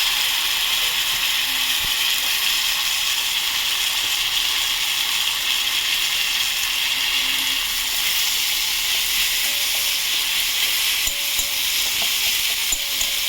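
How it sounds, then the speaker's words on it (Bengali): Continuous crackling sizzle of chopped onion and garlic paste frying in hot oil, steady and close, with occasional faint scraping and clicks, no talking. "পেঁয়াজটা ভেজেছি, পেঁয়াজটা ভাজা হয়ে গেছে।"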